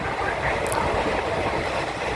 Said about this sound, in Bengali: এই মুহূর্তে সোদপুর স্টেশন ক্রস করছে ট্রেন।